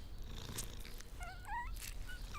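A mother cat purrs softly and steadily at close range while nursing an adopted puppy, with a few faint high squeaks from the young animal overhead.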